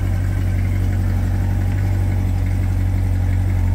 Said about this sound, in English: who doesn't want to hear the engine on this Corvette?